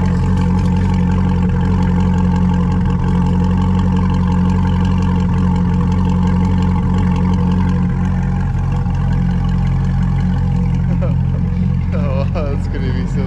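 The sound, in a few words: sports car engine idling with exhaust rumble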